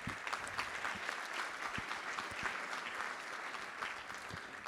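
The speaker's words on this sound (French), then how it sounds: "Et je voudrais encore qu'on les applaudisse." Audience applause at a climate pact presentation in Grand Annecy, heard faint and distant as a steady wash of many hands clapping throughout, with a few sharper claps standing out.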